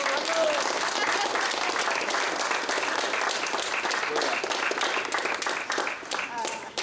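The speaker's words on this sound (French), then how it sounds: "je voudrais qu'on applaudisse Denise" Sustained applause from a crowd, dense steady clapping throughout with murmuring voices mixed in, fading slightly toward the end.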